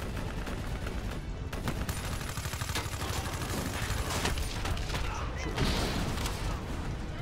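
Video game gunfire aimed at a VTOL aircraft, dense rapid automatic bursts layered with mechanical clatter and rumbling, loud and continuous throughout.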